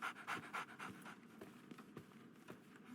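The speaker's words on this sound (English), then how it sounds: "So, Barnes has a dog now. Who's a good boy?" A dog pants quickly and rhythmically, quiet and close, with soft breathy pulses throughout, in the video game Sherlock Holmes: The Awakened, set at Baker Street in London.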